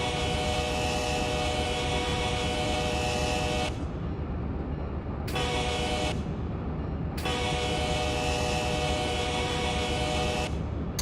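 A long freight train in the Run 8 Train Simulator game rumbles steadily while its horn sounds in several long blasts separated by short gaps, loud and continuous throughout.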